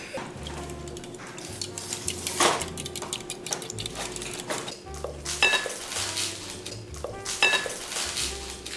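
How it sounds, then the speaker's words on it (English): Eggs are cracked and whisked in a bowl for peanut butter brownie batter: rapid, rhythmic clinks and scrapes of a whisk against the bowl, close and fairly quiet over a low background hum. "I'm gonna crack the eggs in here first and whisk them"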